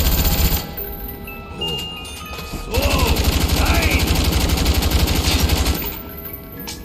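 Rapid automatic gunfire on the Shangri La zombies map of a video game: dense, sustained bursts through the middle of the clip, with voices talking and exclaiming over it.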